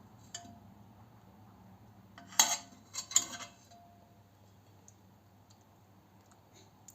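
Boiled milk's cream skimmed and strained in kitchenware, heard as a few close utensil clicks and clinks clustered midway over a quiet background.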